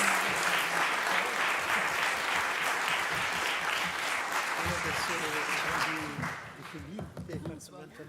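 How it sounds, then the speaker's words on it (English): An academic symposium audience gives the speakers a long, dense round of applause that holds strong for several seconds, then thins and fades as voices and chatter take over. "Let's give all the speakers of the symposium another round of applause"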